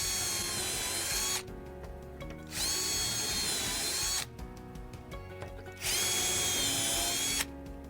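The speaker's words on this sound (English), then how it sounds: "Now we'll drill the front panel." A power drill whines in three sustained bursts into a wooden front panel held in a GRASS Vionaro V8 drilling jig, pausing briefly between each, loud and close.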